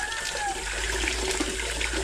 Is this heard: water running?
yes